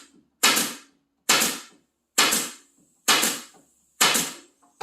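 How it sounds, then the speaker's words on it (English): A staple gun fires staples into the unseen back side of a wooden face frame, giving five loud, sharp, evenly spaced shots about a second apart, each with a short decaying ring. "And I just fire staples into it."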